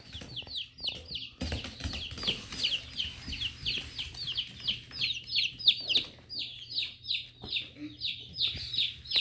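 Chickens cluck over and over in a quick, steady rhythm close by, with a few louder squawks and faint rustling in the background.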